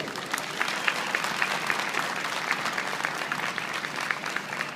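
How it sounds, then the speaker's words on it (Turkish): Sustained audience applause fills a hall at the Keçiören International Ramadan Events in honour of a federation president: dense, steady clapping from a sizable crowd, fairly loud and even throughout, with no voices standing out. "bir alkış rica ediyorum"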